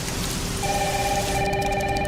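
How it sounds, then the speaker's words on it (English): Heavy rain pours steadily in a video game, a dense, constant hiss of downpour with a thin electronic ringing tone layered over it, and no voices. "It's really coming down hard."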